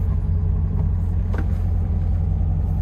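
A 1971 Volkswagen Type 3 drives along with a steady, low engine rumble that stays fairly even throughout, with only a slight change in tone partway through and no voices.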